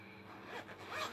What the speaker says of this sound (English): 2 zips on it.